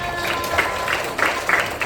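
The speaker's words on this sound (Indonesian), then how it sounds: "Oke, tepuk tangan." A class of students clapping their hands together, a steady patter of many palms with periodic louder bursts of rhythmic claps, fairly close and filling the room.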